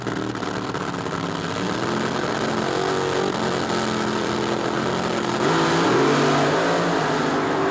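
Drag racing cars at a 1976 NHRA Springnationals launching with tires spinning and smoking: loud, continuous engine roar and rising revs, heard from a distance over a crowded track.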